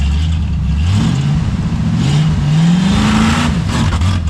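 A new 454 big-block V8, freshly swapped into a K5 Blazer and being primed, cranks over with a loud, continuous mechanical drone that rises and falls in pitch throughout, close by and with no talking.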